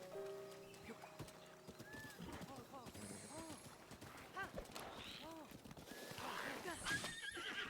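A horse in the video game Zelda: Breath of the Wild whinnies and neighs several times over steady clip-clopping hooves, with game effects and someone talking over it.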